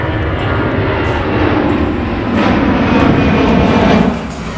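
A Delta heavy jet airliner arriving from Amsterdam makes a broad, steady engine roar that swells gently, peaks near the end and then drops away, heard close and loud.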